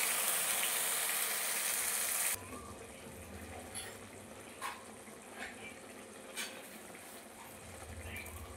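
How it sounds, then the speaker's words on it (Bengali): A little water poured into a poppy-seed paste curry with potol, a steady loud rush of liquid for about two seconds that stops abruptly, followed by faint kitchen clinks. "একটু জল দিয়ে দেবো"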